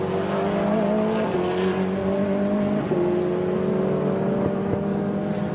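MG race cars run along the back straight of a racing circuit, their engines droning loud and steady, with pitch rising and falling as gears change and no talk over them.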